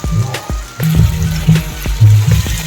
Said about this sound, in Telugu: ఇప్పుడు వాటర్ వేసేసుకున్నాం.